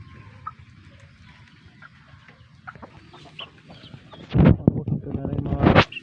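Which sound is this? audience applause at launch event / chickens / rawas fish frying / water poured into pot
chickens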